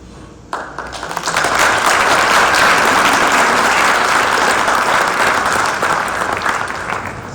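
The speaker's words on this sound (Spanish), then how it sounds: "Gracias por el aplauso que acaban de brindar al doctor Salcido" Loud, sustained applause from a colloquium audience after a physics lecture on Newton's first law, starting abruptly, holding dense and even for several seconds, then easing slightly toward the end.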